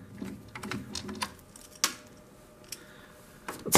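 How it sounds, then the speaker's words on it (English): Screws are taken out of an 8-track player's housing, heard as quiet scattered metallic clicks and scrapes with a few sharper ticks and a louder clatter right at the end, close and sparse. "Let's turn it around and take out some more screws."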